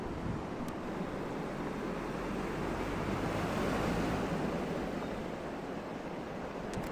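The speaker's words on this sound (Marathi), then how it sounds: "तर बघू शकता इकडं पाणी कसं वाहतं" Floodwater from heavy monsoon rain surges through a small, narrow village culvert choked with dumped rubbish, a steady, loud roaring rush that fills the whole stretch without a break.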